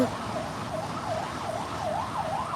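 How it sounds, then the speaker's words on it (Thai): An ambulance siren wails in a steady rising and falling cycle from the street of a city in Valencia, Spain, continuous over low traffic rumble. "รถพยาบาลกับวิววิววิววิว"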